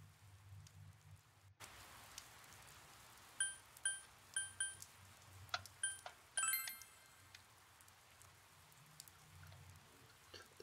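Rain in the video game Persona 4 Golden, a steady hiss of falling rain under a low hum, broken by a series of bright chiming interface clinks in the middle.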